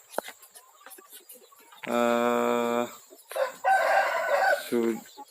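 A rooster crows loudly with a long harmonic call, followed by clucking and squawking chickens nearby in a poultry coop, with faint farmyard noise around.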